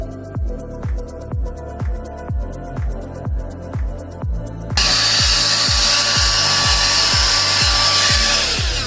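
A Dyson-style hair styler bought from AliExpress is heard close up. A series of regular rhythmic thumps comes first, then the styler abruptly switches to a loud, steady rush of blowing air that continues to the end without talk.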